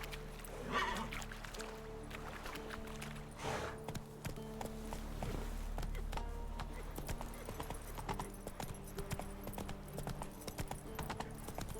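A horse gallops in The Witcher 3, with rhythmic clip-clop hoofbeats running steadily close up, a few brief vocal sounds and game ambience mixed underneath.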